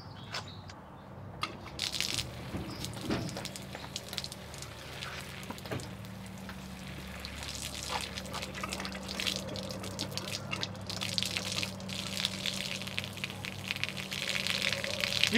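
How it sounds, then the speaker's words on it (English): Water rushes out of an RV's plumbing lines with the pump running while the system is being de-winterized, a steady, fairly quiet splashing stream with scattered drips. "there's quite a bit more water coming out now, and we've got a clear stream from the cold line."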